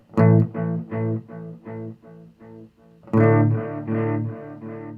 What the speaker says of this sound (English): You can add distortion.